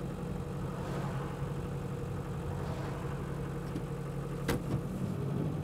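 A 1959 Mercedes 180D diesel sedan rolls along in third gear after a downshift, its steady mid-low engine drone close and continuous with no talk over it.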